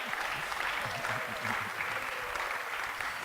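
An audience applauds award recipients at a ceremony, a steady dense wash of clapping that carries through without a break, with no one speaking over it.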